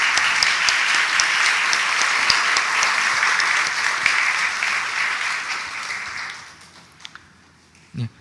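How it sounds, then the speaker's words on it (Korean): Warm welcoming applause from a congregation during a Korean church service, sustained and fairly loud for about six seconds before fading out into near quiet with a couple of small knocks at the end. "환영의 큰 박수 다시 한번 부탁드리겠습니다"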